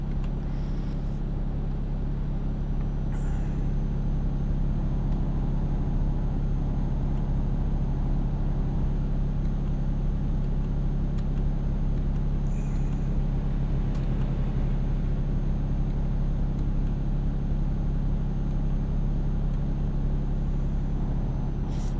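A heavy-transport truck engine in Euro Truck Simulator 2 drones with a constant low rumble while cruising, steady and unchanging throughout with faint road hiss above it.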